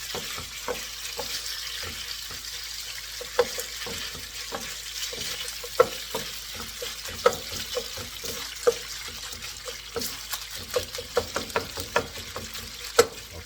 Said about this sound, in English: So basically this is pan-seared meat